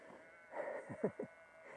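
A few low, drawn-out calls from cattle rise over a quiet outdoor background, fairly distant, with two or three short moos close together near the end.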